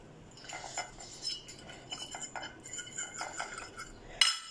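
A metal spoon clinks and scrapes against a bowl while mixing Buldak kimchi hot chicken ramen sauce, close and light taps in an irregular rhythm, ending with a sharper clink.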